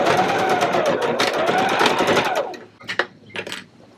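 A loud sewing machine stitches zipper tabs on a Pokemon book bag in rapid, whirring bursts for a couple of seconds, then stops, leaving a few short clunks and handling noises.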